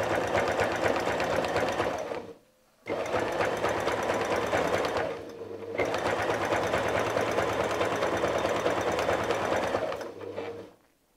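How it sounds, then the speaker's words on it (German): Domestic sewing machine quilting a curved arc on a fire-fish appliqué quilt, running in three long steady bursts of fast, even stitching, close and loud, with short pauses between runs and no talking. "Wir quilten diesen Bogen weiter, bis wir in etwa hier auskommen."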